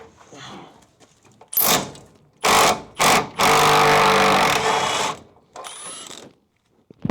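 A mini Milwaukee power tool works a stuck bolt loose on a Crew Cab Charger restoration, firing in several short, loud whirring bursts with one longer run, separated by quiet pauses and brief talk.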